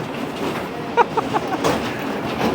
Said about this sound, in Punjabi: ਉਧਰ ਤਾਂ ਜਿਹੜੀ ਆ ਟ੍ਰੇਨ ਚੱਲ ਰਹੀ ਆ